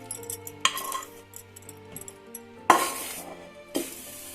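Garlic tempering for a raw totapuri mango palav sizzles in hot oil in short bursts, with a few sharp utensil clinks and scrapes against the pan between quieter moments.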